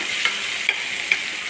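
Onions fry in a little oil for a chikudukaya tomato curry, giving a close bright sizzle with a few light stirring clicks.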